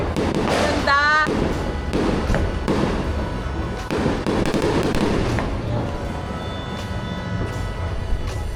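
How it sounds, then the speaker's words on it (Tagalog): Fireworks crackle and boom continuously over Cebu City, Philippines, at New Year's Eve, with sharp bangs and a whistling rocket early on, loud and close amid distant celebratory noise. "May pa-fireworks ang Cebu."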